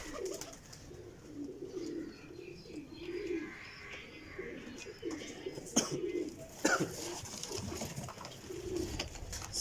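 Kasuri pigeons coo softly in low, rolling murmurs, with occasional chirps and faint clatter nearby. A voice speaks quietly under them.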